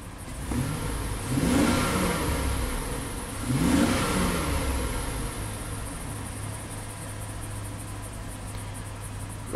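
A Chevy Avalanche V8 engine, running smoothly after a bank 2 misfire on cylinders two and six, revs up twice in a steady close idle, with faint insect chirping in the background.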